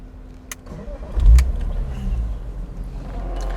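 A 1999 BMW E36 M3 Cabriolet with a six-speed manual pulls away, its engine note swelling loudly up close, then settling into a steady driving hum.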